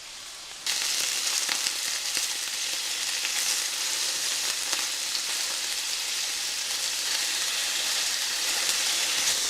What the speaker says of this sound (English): It's going to take a few minutes to get all this pork browned up